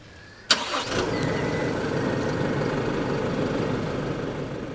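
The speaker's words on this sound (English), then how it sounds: "remote engine start with the key fob" An Isuzu MU-X engine cranks and fires with a sharp onset when started remotely by key fob, then settles into a steady, fairly loud idle that continues to the end.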